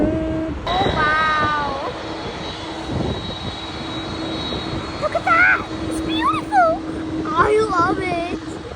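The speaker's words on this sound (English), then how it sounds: "That's an Airbus A330 behind the stupid fences they decided to put in." An Airbus A330 airliner at an airport plane-spotting mound gives off a steady, broad jet engine roar throughout, with excited voices talking over it, including a high, child-like voice.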